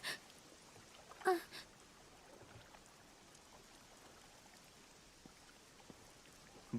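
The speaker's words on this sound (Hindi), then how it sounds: "बारिश शुरू हो चुकी है।" Faint, steady rain falls in a Hindi-dubbed Doraemon cartoon, a soft continuous hiss with a brief thump near the start.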